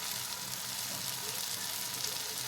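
Tomato cooks down with turmeric, chili, coriander and cumin powders in a pan, giving a close, even hiss of frying with a light stirring texture and no talking.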